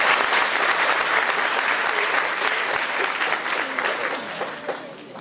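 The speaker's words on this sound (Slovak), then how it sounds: "Prosíme jeden potlesk pre nich." An audience at an autumn community cultural event applauds steadily for about five seconds, a dense, even patter of many hands that eases slightly toward the end.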